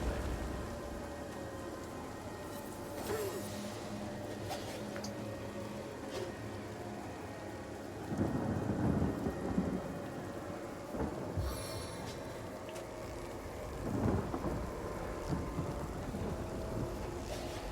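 Steady rain with low rumbling thunder swells in a video game stone storm, the noise broad and continuous with louder surges midway and near the end, no talking.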